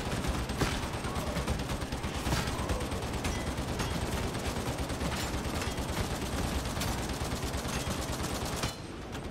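Continuous chain gun fire in Warhammer 40K Darktide, a loud, dense, unbroken roar of rapid shots lasting several seconds with no talk over it.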